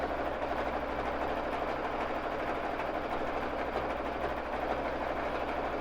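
Babylock Jazz II sewing machine running steadily during free-motion quilting with Aurifil thread, a continuous close whirring motor hum with fine rapid stitching texture and no pauses, alone without talk.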